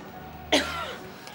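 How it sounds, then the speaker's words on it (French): A single sharp smoker's cough, close and abrupt, fading quickly into a quiet room. "Je tousse à cause du tabac."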